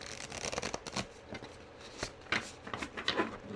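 Tarot cards shuffled by hand in a dense, rustling run of riffling and flicking, fairly close and steady, with no one talking over it.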